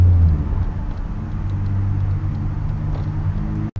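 A naturally aspirated Nissan 300ZX pulls away from a stop, its engine rumbling low and steady close by, with the exhaust drone holding for a few seconds before a brief dropout at the end.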